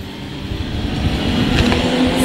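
A steady, rising roar of Classic Touring Car Championship VW Cup cars passing close by on a rolling start at Silverstone, building over a couple of seconds into a dense, loud wash of motor noise.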